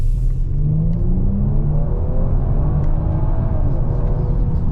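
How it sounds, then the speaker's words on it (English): A 2023 Kia Stinger GT2 turbo engine drones loudly and steadily as the car accelerates, with a brief airy blow-off hiss at the very start and engine tones climbing in pitch beneath the rumble. "A little bit of a blow-off noise."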